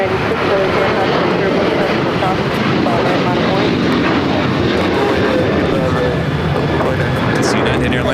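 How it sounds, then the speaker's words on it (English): A United Airlines Boeing 737-800 jet takes off at Los Angeles airport, a loud and steady engine roar that fills the whole stretch without letup. "It's United Airlines Flight 1832 heading to Vancouver at 737-800."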